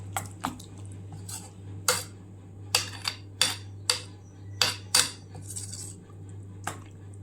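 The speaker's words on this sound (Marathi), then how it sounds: "आता हे मिक्स करून झालं।" A spoon clinks sharply against a bowl as spices are stirred into appe batter made from poha and semolina, giving about a dozen bright, irregular taps over a steady low hum, with no talking.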